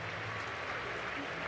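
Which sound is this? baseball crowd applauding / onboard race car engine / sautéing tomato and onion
baseball crowd applauding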